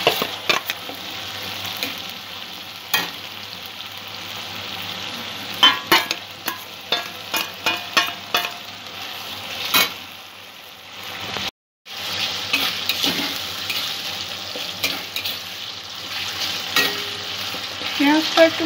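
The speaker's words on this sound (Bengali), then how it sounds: "পেঁয়াজটা একটু ভালো করে কষিয়ে নেব" Onions frying with spices in a pan for a rohu fish curry, a steady sizzle with repeated scraping stir strokes, a brief break near the middle, then continuous frying noise.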